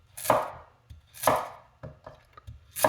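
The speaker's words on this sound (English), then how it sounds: "And this is how I do an oblique cut." Heavy 352-gram vintage chef knife making oblique cuts through a carrot on a board: sharp chops with a crunch, then several quieter cuts, near and clear with no talking.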